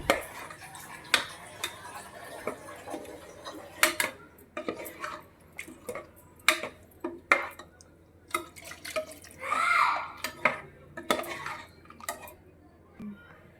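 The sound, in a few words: stirring curry with water in a pot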